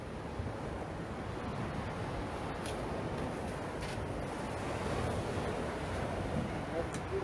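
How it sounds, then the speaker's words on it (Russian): Waves roll in under strong, steady wind buffeting the microphone, forming a continuous broad roar of surf that swells slightly toward the end, with no clear voices. "А, видите, народ, волна какая, ух."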